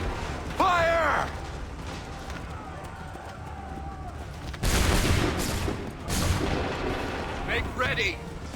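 Assassin's Creed 3 musket lines fire three heavy volleys, one early and two close together later, each a loud crackling burst that rolls away. Shouted voices cut in between the shots.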